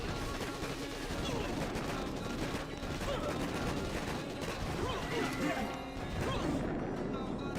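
Boom Beach warship battle in the video game, with dense, continuous cannon fire, shock blasts and explosions crashing together loudly throughout.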